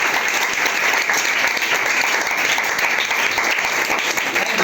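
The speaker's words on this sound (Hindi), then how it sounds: "प्लीज ताली से नवाजिए।" Steady applause from an audience at a school prize-distribution ceremony for a Class 10 student, dense continuous clapping filling the room at even loudness throughout.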